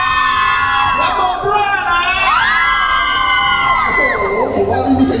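A festival crowd at an Acer x Power Mall gaming event cheers loudly throughout, with children shouting and whooping while an announcer's voice rises over the noise.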